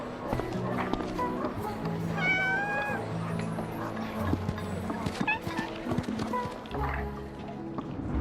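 A cat meows in Honor of Kings, a couple of short rising calls heard through busy game effects, music and footstep-like clopping, with voices talking alongside.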